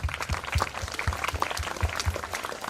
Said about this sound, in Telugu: give a big round of applause